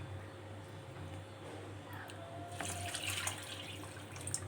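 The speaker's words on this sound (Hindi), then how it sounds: "अब हम इसमें पानी डालेंगे।" Water poured into a pot of mutton biryani with its spices, a steady splashing rush that swells partway through over a low background hum.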